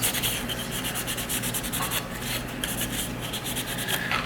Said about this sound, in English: Wipe the trigger assembly down a little bit.